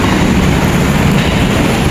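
A light rail LRT train rumbles past at close range, a loud, steady roar of wheels on track filling the whole moment with no voices over it.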